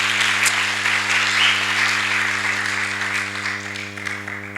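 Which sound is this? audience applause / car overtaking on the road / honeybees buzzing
audience applause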